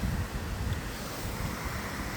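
A river flows beside a walking trail in the Scottish Highlands, a steady rushing wash heard alone amid gusty wind buffeting the microphone.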